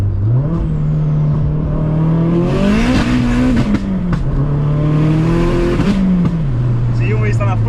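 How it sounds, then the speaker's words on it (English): Modified 552bhp Vauxhall Astra VXR accelerating hard in third gear with a flat-foot shift, engine note rising loud and close throughout, a brief dip mid-run, with people talking over it. "Can't even do a little third gear pull."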